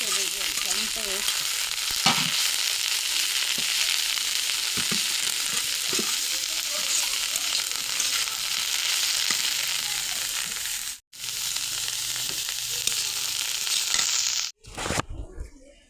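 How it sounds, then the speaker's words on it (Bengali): Radish greens sizzle loudly and steadily while frying in a pan, with a few soft stirring knocks. The hiss cuts out briefly near the end. "অনেক সুন্দর ভাজা ভাজা হয়েছে শাকটা।"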